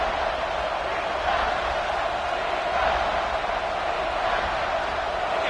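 A loud stadium crowd roars steadily in an NCAA college football video game, a dense, continuous wall of noise that holds throughout without letting up.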